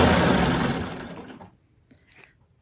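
A quilting sewing machine runs fast while stitching a string block of fabric scraps, a loud, even mechanical whir that stops at about a second and a half, leaving faint handling clicks.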